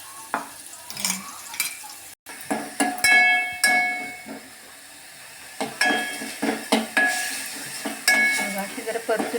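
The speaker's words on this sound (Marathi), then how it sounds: "अशी जरा परतून घेऊया आपण तेलावरती।" Spring onion greens for paratha are sautéed in oil, giving a close, steady sizzle broken by a rhythmic run of spatula scrapes and clinks against the pan.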